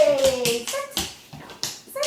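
A dog makes short whiny, vocal back-chat noises during target stick training, several yips and whimpers close by, mixed with light taps and a person talking.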